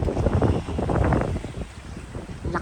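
Steady, loud wind buffeting the microphone, a continuous rough rush with gusty swells throughout.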